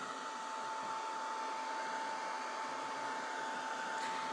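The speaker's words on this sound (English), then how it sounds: "Now I'll just go ahead and hit it with the dryer," Heat gun blowing steadily on watercolor paint of a birds-on-a-wire silhouette, a continuous loud, even whoosh with a faint whine, running alone without talk.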